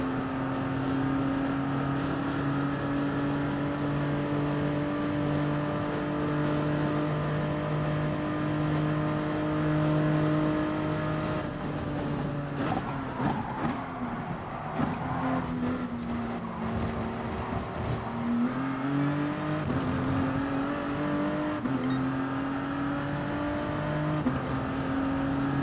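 A race car engine in GT Sport drones at high, sustained revs, then drops and climbs through downshifts and upshifts midway. The loud, close tone dominates throughout with no talk.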